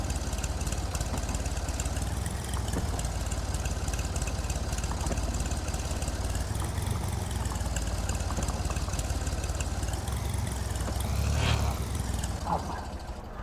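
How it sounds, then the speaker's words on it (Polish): A tractor engine runs at idle for the whole stretch, a steady, loud, dense chugging hum with faint knocking and no break in its level. "ja zgaszę tylko ciągnik, żeby mi się paliwo nie marnowało"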